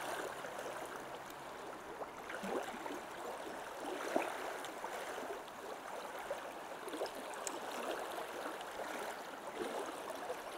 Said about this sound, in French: seul le son, les bruits de cette rivière, le chant des oiseaux